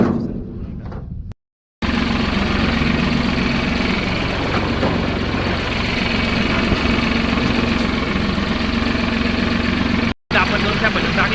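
A tractor engine idling on a farm, a steady low rumble with a faint knocking throb that runs on without a break after a brief gap near the start.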